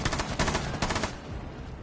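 Gunfire in a shooter video game: a rapid, loud burst of shots in quick succession, then a brief decaying tail as it fades into quieter background.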